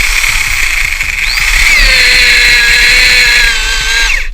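A power drill bores through a wooden beam, a loud sustained whine near the source with a pitch that shifts as the bit bites and slows, ending abruptly, with no talk.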